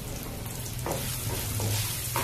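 Cut potatoes sizzle and crackle in hot oil in a pan while a vegetarian thali is cooked, a steady close frying hiss with a few stirring scrapes and no voices.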